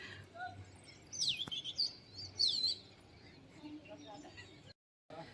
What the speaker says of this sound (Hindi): और चिड़ियों की चहचहाहट है।